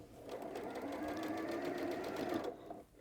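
A sewing machine stitches patchwork pieces at a 2.4 stitch length, running as a quiet, steady rapid whir for about two and a half seconds before it stops.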